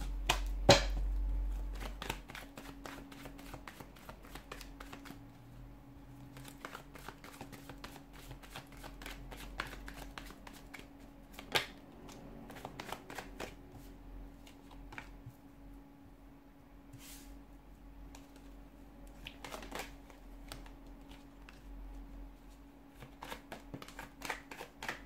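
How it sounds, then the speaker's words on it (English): A deck of tarot cards is shuffled by hand in a quiet room, with soft, repeated riffling and slapping bursts scattered across about twenty-five seconds and a faint steady hum underneath. "give the cards a shuffle"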